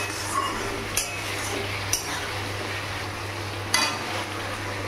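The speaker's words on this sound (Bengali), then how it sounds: "আলুটা দিয়ে আরেকটু কষিয়ে নেবো ভালো করে।" Potatoes being sautéed in masala for a banana-flower curry: a few sparse, sharp spatula clinks against the pan over a low, steady background hiss.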